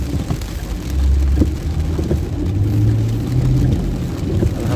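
Continuous desert rainfall hisses steadily while a low vehicle engine hum rises and falls beneath it; no voices.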